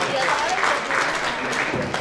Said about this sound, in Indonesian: Kita beri tepuk tangan dulu untuk Pak Bukas Teknik.